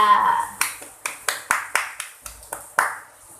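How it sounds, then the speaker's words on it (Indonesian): A small classroom audience claps for a presenter named Rizka: about ten sharp, evenly spaced hand claps ring out close by, then fade, with no one speaking over them. "beri aplaus untuk Rizka"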